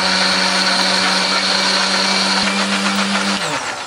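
A kitchen blender grinds a spice paste of turmeric, chili, shallot, garlic and candlenut with a little water, a loud steady whirring motor that runs alone and then winds down near the end.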